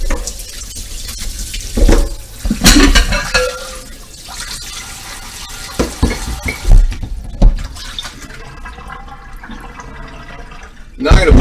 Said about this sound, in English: I'm going to rinse it off so it doesn't have any dust on it.